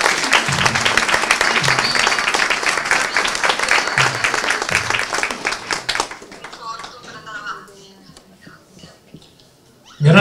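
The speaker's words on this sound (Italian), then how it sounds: "Dalla Sicilia un altro grande applauso che arriva fino in Lombardia." Audience applause at a women's day anti-mafia event, loud sustained clapping for about six seconds that then fades into quieter room noise with brief voices.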